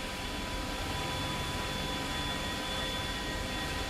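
Mi-24 helicopter in a combat video game, heard as a steady, loud broadband engine and rotor roar with a constant whine, unbroken and unchanging for the whole stretch.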